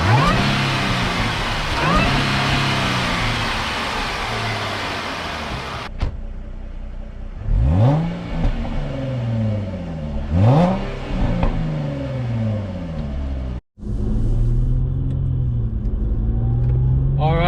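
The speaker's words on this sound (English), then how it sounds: "Let's start it up and I'll let you guys hear that supercharger." A Jaguar XF 35T with a 3.0-litre supercharged V6 revs repeatedly after starting, with sharp rising blips and falling notes over a steady idle, close and loud, with brief pauses between revs.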